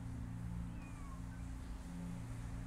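A cat meows in the video game Copycat, a short, faint, rising-and-falling mew heard once over a dense low rumble of background ambience.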